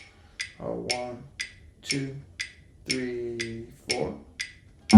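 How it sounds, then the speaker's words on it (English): A metronome ticks steadily for a classical guitar left-hand exercise, sharp clicks evenly spaced about two per second, with a nearby voice counting along between them. "2 measures would sound like this with a metronome."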